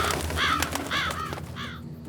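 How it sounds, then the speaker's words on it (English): Crows caw in three or four harsh, separate calls, fairly close and loud, over a low ambient rumble with no talking. "it's just birds"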